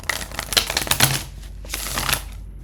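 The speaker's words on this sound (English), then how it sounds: "I'm just going to give it a quick shuffle" Cards riffle and flutter in two quick bursts of crisp, rapid snapping, close up, with a short pause between them.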